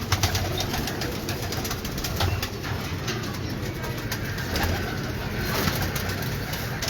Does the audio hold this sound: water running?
no